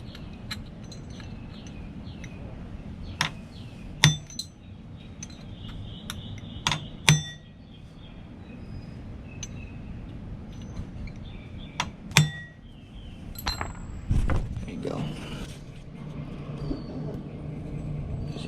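A metal punch is tapped against the clutch nut of a 2018 Suzuki GSX-S 750 to stake it, giving several sharp, ringing metallic clinks spaced out over a steady low background hum in a workshop.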